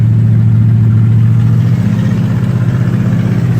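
A 1962 Studebaker Lark wagon's V8 engine in drive as the gas is pressed, giving a loud, steady, close low rumble that builds slightly without sharp revs.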